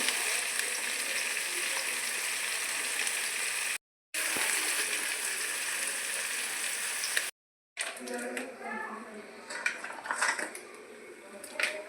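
Onion, kundri (ivy gourd) and chopped tomato fry in a pan with a steady broadband sizzle, broken by two short silent gaps, then lighter stirring and utensil clinks near the end.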